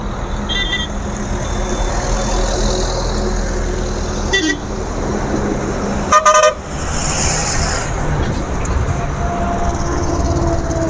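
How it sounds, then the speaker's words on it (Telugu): A lorry's horn on a road sounds one loud, short blast midway, with a faint toot shortly before, over steady traffic and wind rumble. "లారీ అన్న హార్న్ అయితే కొట్టాడు"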